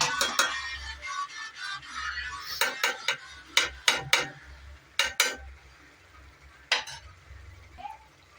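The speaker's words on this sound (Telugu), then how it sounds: "మా అమ్మ చెప్పింది కలుపుమని, అందుకే కలుపుతున్నా" A spoon stirring a potato and drumstick curry in a pot, with irregular metallic scrapes and clanks against the pot, some in quick clusters, over a soft simmering hiss, close and without speech.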